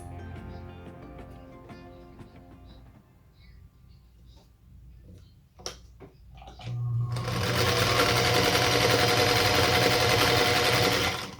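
A featherweight sewing machine stitching quilt blocks along diagonal lines, with a few quiet clicks and handling sounds first, then the motor starting and running as a loud, steady, close whir for the second half.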